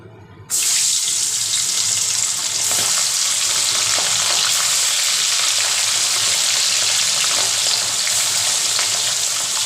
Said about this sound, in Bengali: এবার আমি মাছগুলোকে ভাজা করে নেব আমার তেলটা অনেকটা গরমও হয়ে এসছে